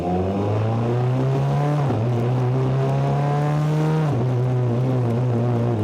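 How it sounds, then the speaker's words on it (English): A loud, steady BAC Mono car engine drone with strong harmonics, dipping briefly twice as revs shift, continuous and close throughout, driving on the road in the rain. "It's just a big engine noise right behind me"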